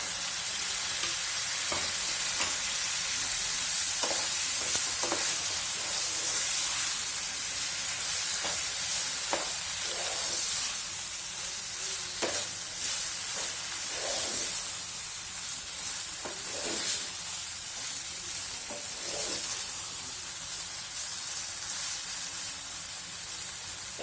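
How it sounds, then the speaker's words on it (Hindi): Chinese khichdi is stirred and fried in a pan, a soft continuous sizzle broken by repeated scraping and clanking strokes of the spoon at an uneven rhythm, close by and without talk. "खिचड़ी मिक्स कर देंगे"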